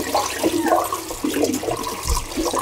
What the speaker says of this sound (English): Now just rinsing the excess colour off.